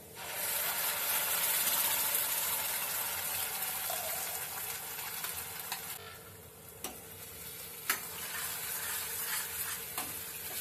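Ground masala paste is stirred into a Malvani-style okra curry simmering over medium heat, with a steady close sizzle and bubbling and a few sharp ladle taps against the pot.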